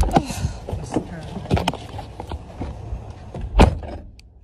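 A car door is shut hard, giving a sharp thud among several knocks and clunks. The loudest bang comes late, followed by quieter handling noises.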